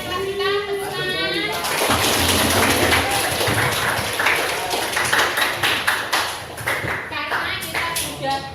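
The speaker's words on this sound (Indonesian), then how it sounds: "tepuk tangan." A classroom of children claps hands together in a brief, ragged burst of mixed claps, close and lively, with children's and a teacher's voices around it.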